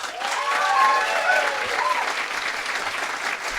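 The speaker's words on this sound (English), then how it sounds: "can we get a round of applause for Zoran Mamdani?" A comedy club crowd at the Comedy Cellar claps in a brief round of applause, a dense, fairly close patter with scattered cheers and voices mixed in, holding steady before easing off.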